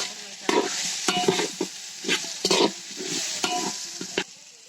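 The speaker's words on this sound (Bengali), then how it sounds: "এখন এগুলো আর একটু ভালোভাবে নেড়ে আমি সামান্য একটু পানি দেবো" Biryani meat and spices sizzle as they are stirred in a frying pan, with repeated scraping strokes about once every second over a steady close fry.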